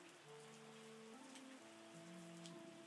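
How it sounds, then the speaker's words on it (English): Rain in the wine-making simulator game Terroir falls as a steady soft patter beneath sustained musical tones, faint and continuous throughout. "Ah, stupid rain. You're killing me."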